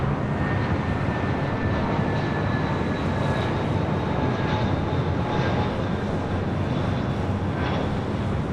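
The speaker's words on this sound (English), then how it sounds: "the flight coming in from Vancouver, United" A United A320 arriving from Vancouver at LAX gives off a loud, continuous engine roar. Faint whining tones drift slightly across the constant rumble, and no one speaks.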